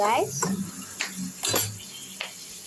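Mushroom curry base fries in a kadai at home, with a soft sizzle under a few distinct spatula scrapes and clanks against the pan, close and moderately loud.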